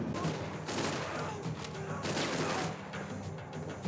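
Dense, continuous gunfire with pistol shots mixed into a noisy battle in the Max Payne 3 video game, loud and chaotic, with bursts overlapping throughout.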